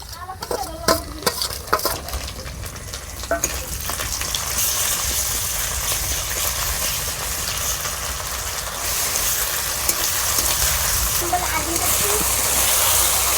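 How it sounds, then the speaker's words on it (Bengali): Ginger and garlic paste fries lightly in a pan with a steady, loud sizzle, joined early on by a few clinks and scrapes of stirring before the frying settles into a continuous hiss. "আদা রসুন আমি হালকা করে ভাজে নিচ্ছি"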